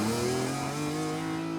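A car accelerating hard from a launch-control start, its loud engine holding a steady, sustained drone with rising tonal harmonics throughout, without any talking.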